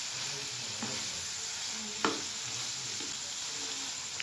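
Okra (bhindi) being gently stirred with a spoon in a pan as it fries, a steady soft sizzle with a few sharp scraping clicks from the spoon.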